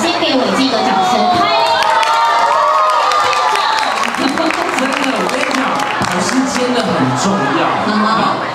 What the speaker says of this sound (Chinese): 我们先给伟静一个掌声。